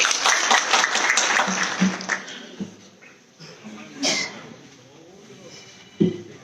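An audience at a political rally in Hisar gives a burst of clapping that is dense and loud at first, then thins out and fades within a few seconds, and a voice speaks through it.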